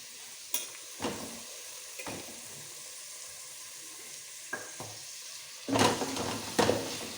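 Tomatoes frying in a pan for bele pappu, a soft steady sizzle with occasional sharp clinks and scraping stirs, louder stirring near the end.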